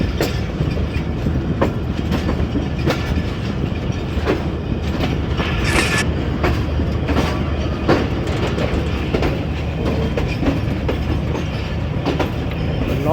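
A passenger train on Pakistan's ML-2 line rolling steadily along the rails, with a continuous rumble, rhythmic clickety-clack of the wheels and occasional faint wheel squeals, heard from on board.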